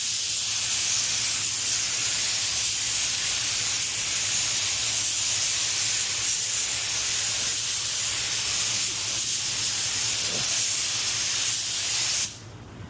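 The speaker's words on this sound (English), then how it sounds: "with this heavy pearl, you got to keep shaking your gun so that it evens that out. We want a nice wide fan." A spray gun lays down heavy pearl silver car paint in a steady, loud, continuous hiss that runs almost unbroken, then cuts off abruptly near the end.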